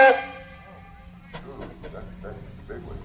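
A steam whistle blows briefly at the start on a steam engine at a threshers festival outdoors, fading quickly into crowd murmur and scattered clanks while people talk nearby.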